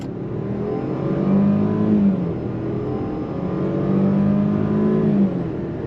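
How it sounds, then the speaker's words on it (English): A 2023 Range Rover Velar luxury SUV with an 8-speed automatic pulls away from a dead stop. The engine drone builds steadily, and two clear rising surges mark the gear changes as it accelerates with no talking. "But let's go on throttle again from a dead stop."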